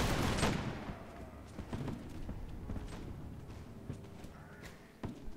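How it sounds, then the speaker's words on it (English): A musket volley from infantry in the Mount & Blade Warband video game, a loud crackling burst of many shots at the start fading into scattered reports, hoof clatter and battlefield noise, with a few sharper shots later. "Make ready for second volley."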